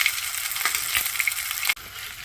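Chicken legs fry on high flame with a bright, steady sizzle and hiss, close to the pan, broken by a sharp drop near the end before the sizzle resumes more softly.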